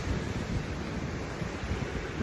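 Sea waves washing onto the shore in Pagudpod, a steady broad wash of surf mixed with wind, continuous and fairly close with no voices.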